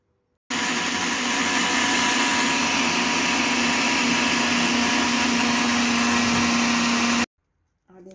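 A Moulinex electric blender grinds dough ingredients with salt and yeast at close range, a loud, steady whirring motor running about seven seconds before cutting off abruptly.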